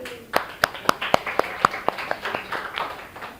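A small group claps during a classroom presentation session, a short, loose run of separate sharp hand claps that starts distinct and thickens into scattered clapping before thinning out.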